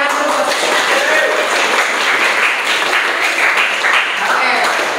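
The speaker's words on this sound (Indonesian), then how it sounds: "Oke, tepuk tangan dulu." A room of participants at an Islamic education teaching session breaks into steady clapping, dense and fairly loud, sustained for several seconds without a break.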